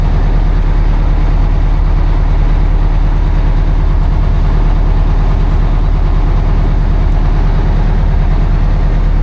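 A 1969 Peterbilt 359 little-window truck idling, its engine a loud, steady, low rumble with even rhythmic pulsing, close and unchanging, with no voices.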